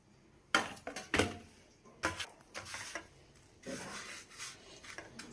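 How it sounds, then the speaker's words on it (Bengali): A vegetable chop dipped in cornflour is pressed and rolled in biscuit crumbs, giving soft irregular rubbing and scraping bursts with a few light clinks, close and quiet. "এবার একটা একটা করে এই চপ নেব, নিয়ে কর্নফ্লাওয়ারে ডুবিয়ে বিস্কুটের গুঁড়োই দেব।"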